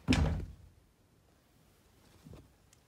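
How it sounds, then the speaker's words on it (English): A single heavy thud like a bang on a door sounds near and loud at the start, followed by a fainter knock about two seconds later. "bang down the door"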